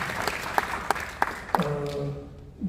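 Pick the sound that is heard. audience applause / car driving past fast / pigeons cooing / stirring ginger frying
audience applause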